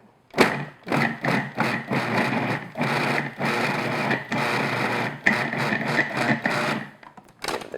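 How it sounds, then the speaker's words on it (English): A food processor pulses butter and flour into coarse crumbs for tart dough, loud bursts of whirring chopping repeated in quick succession with short gaps between pulses, close up and without talk. "What we're going to do is just pulse this until we have coarse crumbs."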